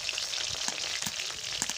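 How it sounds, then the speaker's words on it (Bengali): Bhola fish fry in mustard oil in a pan with a close, steady crackling sizzle, with a few soft clicks of a spatula during the brief stretch. "ভোলা মাছগুলো আমার ভাজা হয়ে গেছে"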